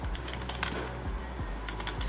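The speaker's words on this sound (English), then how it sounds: "So for that, we're gonna type try" Computer keyboard typed on at close range while writing code for a Discord bot, a quick irregular run of soft key clicks and taps over a low background hum.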